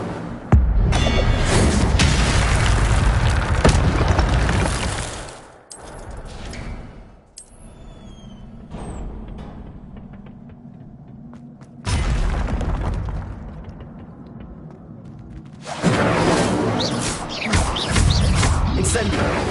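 Fiery Incendio spell blasts from a Harry Potter-style video game, a loud roaring burst up front, a quieter stretch, then another loud rushing blast near the end, with a voice speaking over parts of it.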